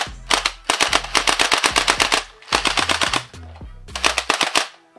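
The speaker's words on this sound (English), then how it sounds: "let's get right to the accuracy and FPS test to see how fast this blaster shoots" A Yagee M762 gel blaster fires in three long full-auto bursts, rapid close, loud mechanical shots with short pauses between strings.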